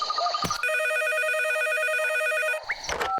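A cartoon telephone in the Boonie Bears animated series (Hindi dub) rings with a bright, rapidly trilling electronic warble, one steady burst lasting about two seconds, bracketed by short clattering noises before and after.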